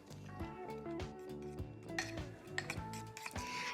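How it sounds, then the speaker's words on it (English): Carrot mug cake batter stirred in a mug with a utensil, giving a steady series of quick clinks and scrapes against the ceramic, close and fairly quiet, with no one speaking. "now we're gonna mix all the ingredients until well combined"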